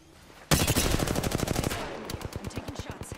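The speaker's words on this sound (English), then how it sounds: "I'm taking shots." Rapid automatic gunfire in Apex Legends, a sustained burst of close, loud shots that slows into separate cracks near the end.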